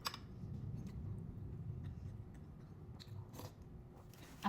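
Close, quiet chewing and biting while eating pork bone radish soup, soft wet crunches and mouth sounds with a few sharper clicks, heard alone without talk.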